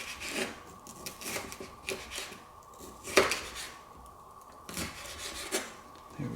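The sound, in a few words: finely chopping vegetables with a knife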